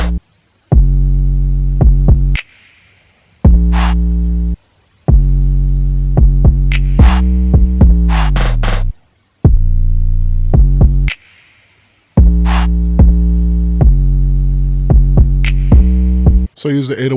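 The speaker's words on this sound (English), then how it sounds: "Now we can get into the 808 pattern, and it sounds like this by itself." An 808 bass pattern from the Shy God 80812 drum kit plays alone: loud, deep booming bass notes in a rhythmic sequence with short gaps, some notes sliding in pitch, punctuated by sharp clicks.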